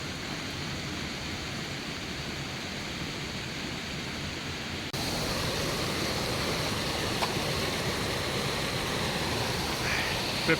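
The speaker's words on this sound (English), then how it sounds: "Got a gorgeous view by here anyway, with the waterfall and the rain coming down." Steady broadband rush of a waterfall mixed with falling rain, constant and enveloping, growing slightly louder partway through with no distinct events.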